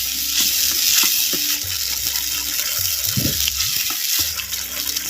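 Cow's-milk curd is stirred into a fried sardine curry in a pan, giving a close, steady sizzle with wet bubbling and a few soft scrapes of the spoon against the pan.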